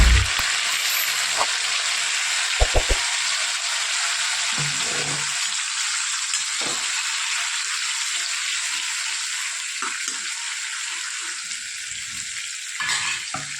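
Cumin seeds and cloves sizzle steadily in hot oil for a gravy with dungri and chana dal, a loud, continuous frying hiss broken by a few light taps and stirring clinks.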